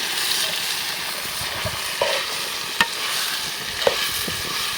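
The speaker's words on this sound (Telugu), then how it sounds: "అల్లం అయితే వేగిపోయింది, చికెన్ వేసేస్తాను." Chicken pieces tipped into a pan of fried ginger, cooked outdoors at night on a mango farm, hissing in a steady bright sizzle with a few clinks of a spoon stirring.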